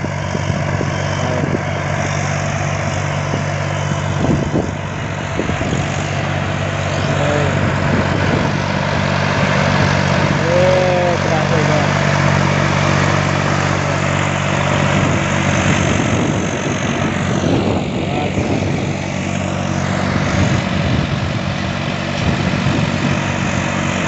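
A 2021 Valtra A950R tractor grading soil alongside a Massey Ferguson 4275, its engine a steady loud drone throughout with continuous low rumble and mechanical rattle, no speech.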